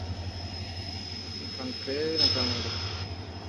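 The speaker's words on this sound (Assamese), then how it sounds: "ইফালে এখন কয়লা ট্ৰেইন গৈ আছে" A coal train rumbles past at close range, a low steady drone with a faint high whine running through it.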